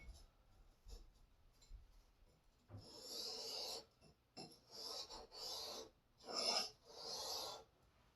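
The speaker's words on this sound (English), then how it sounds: "by pushing that along my stone, I'm effectively cutting that burr off" Lopper blade pushed along a sharpening stone to cut off the burr, several dry rasping strokes of varying length after a few light taps, close up and alone.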